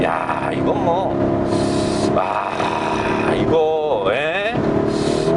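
A Lamborghini Urus engine revving and pulling hard while driving, with a steady loud cabin drone and rising-falling engine tones as it accelerates, under continuous excited talk.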